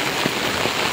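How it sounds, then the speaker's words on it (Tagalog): Heavy typhoon rain in Rizal, Philippines, a loud dense continuous hiss of rain pouring onto surfaces, with a couple of soft thuds of heavier drops. "Kung napapansin nyo, lakas ng ulan."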